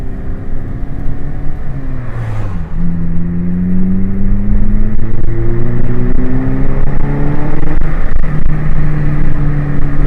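A 2005 Mazda 3 engine drones steadily, its pitch dipping then climbing as the gears shift, with a few faint pops and crackles from the MagnaFlow exhaust on downshifts under the rumble.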